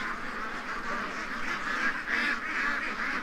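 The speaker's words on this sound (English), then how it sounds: "They're short bus ducks." A group of ducks quacks and honks continuously in a busy chorus, moderately loud and nearby, with no talk over it.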